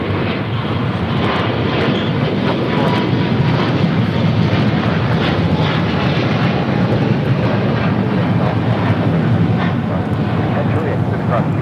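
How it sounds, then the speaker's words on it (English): China Eastern Airlines Boeing 777-300ER taking off at LAX, a loud, steady engine roar sustained throughout, with a voice talking over it. "This is China Eastern Airlines 586 taking off to Shanghai on a 777-300ER"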